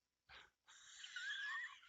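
A short, breathy, dog-like bark comes from a bag, followed by a longer raspy, wheezing whine. Both are faint and heard alone, with no talk over them.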